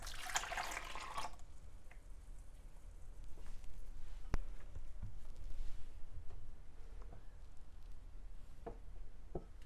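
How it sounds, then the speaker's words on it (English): Brief splashing pour of water phase ingredients into melted oils for a homemade natural lotion, loud for about a second, followed by quiet drips and faint clinks. "we're going to go ahead and add our water phase ingredients"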